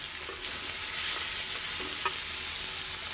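Fish frying in a pan for fish bhuna, a steady close sizzle with a few soft stirring scrapes and no voices.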